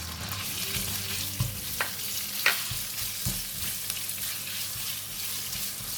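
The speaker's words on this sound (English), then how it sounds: "now I'm going to put in the pork" Pork frying in a pan for a tofu and soybean paste dish, a soft steady sizzle broken by a few distinct utensil clicks and scrapes against the pan; no voices.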